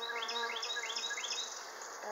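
Dense buzzing of many bees fills the air during a hive inspection, close and continuous, with overlapping droning tones and no talking.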